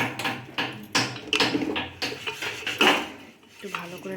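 Popcorn ingredients with oil and salt stirred in a pressure cooker pot, making close, repeated metallic scraping and clanking strokes in an uneven rhythm, with no talk over them.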